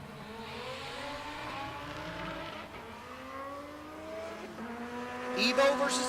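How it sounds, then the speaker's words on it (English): Race cars revving and accelerating through gears at Pueblo Motorsports Park during a stick shift race, engine tones rising repeatedly at moderate distance with tire noise and crowd talk mixed in. "And we're going stick shift racing."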